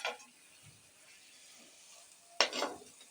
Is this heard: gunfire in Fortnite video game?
no